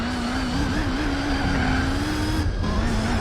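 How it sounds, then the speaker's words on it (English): Tyres squeal steadily in Gran Turismo 4 as a race car holds a long, loud, wavering screech over engine drone, with a brief dip near the end. "Can you hear those tyres?"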